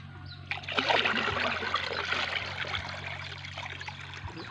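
Dissolved fertilizer solution is poured out on a vegetable farm growing string beans, cucumbers and eggplant. A steady close trickle and splash of water runs unbroken for several seconds over a faint low hum.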